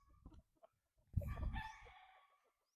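A young bull stag gamecock crows once, loud and close, after a few soft clucks and rustles.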